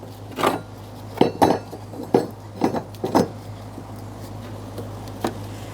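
Light metallic taps drive a fuel pump locking ring into place on the fuel tank of a Jeep Patriot, about seven irregular close clinks over a steady low hum, with a faint final tap after a pause.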